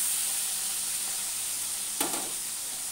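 Spice paste added to a hot frying pan with a little water: a steady background sizzle, then a sudden louder hiss and spatter as the paste hits the oil.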